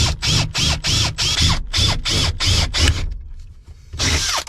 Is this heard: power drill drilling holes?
yes